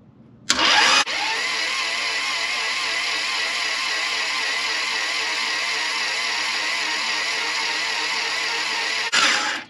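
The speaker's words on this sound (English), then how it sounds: "I'm just gonna let the starter rest for a minute or two, and I'm gonna keep doing that till till the oil comes out" A Honda H22A4 stroker engine turns over on its starter motor to prime the oil, with no firing. A loud, steady mechanical whir runs unbroken for about eight seconds, with a sharp click at engage and at release.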